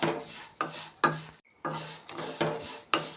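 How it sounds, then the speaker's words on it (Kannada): Dry vermicelli stirred and scraped in a hot pan over a medium flame, with repeated spatula strokes and a faint crackle, close and without speech. "ಶಾವಿಗೆನೂ ಹುರ್ಕೊಂಬಿಡೋಣ. ಮೀಡಿಯಮ್ ಫ್ಲೇಮ್ ಇಟ್ಕೊಂಡು ಹುರ್ಕೊಬೇಕು ನಾವು."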